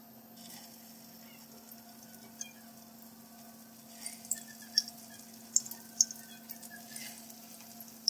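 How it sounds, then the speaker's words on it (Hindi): Egg-coated beef resha kebabs frying in a pan over low heat, a steady faint sizzle with scattered small pops and crackles growing more frequent toward the end, no talking. "अब हम इनको फ्राई करेंगे"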